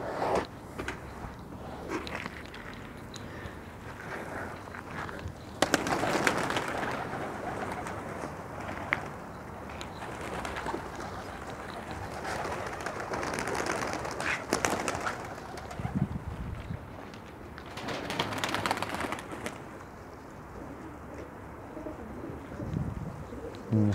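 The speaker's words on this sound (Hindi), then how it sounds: "ये भी कबूतर बाजी में उड़ा हुआ।" Pigeons, high-flying racing birds, coo softly and repeatedly nearby, with occasional rustling and bursts of outdoor noise in between.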